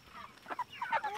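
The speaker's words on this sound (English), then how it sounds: "So this is the big weekend for these Cornish Cross meat chicks, meat birds." Cornish Cross meat chickens give a few soft, short clucks and chirps, faint and nearby, in a quick cluster lasting about a second.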